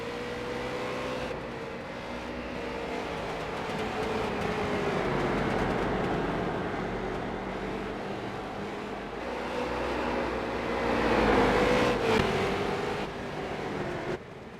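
Race cars at a Lucas Oil racing event circle the track at night, a steady layered engine drone with rising and falling pitch as cars pass, loud and continuous with no talk.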